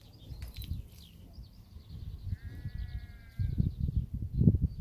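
A nearby sheep bleats in several wavering calls, growing louder toward the end, with a faint bird chirp early on and no talking.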